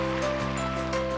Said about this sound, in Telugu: దీంట్లోకి వాటర్ యాడ్ చేయాలి.